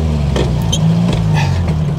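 A fifty-year-old farm truck engine pulls in third gear, a steady, loud low drone close by with the drivetrain humming continuously and a few brief higher mechanical whines over it.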